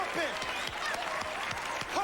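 Studio audience applause for Bobby Brown on The Arsenio Hall Show, a moderate wash of clapping mixed with cheers and whoops rising over it, steady throughout with a few sharper accents.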